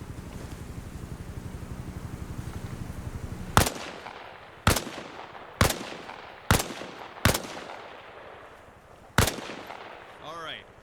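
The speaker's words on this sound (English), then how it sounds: "Position yourself behind the wall and lean out while firing." Rifle gunfire on a training range in the Arma Reforger video game: six sharp, loud single shots spaced about a second apart, each with a decaying echo, after a steady low hum.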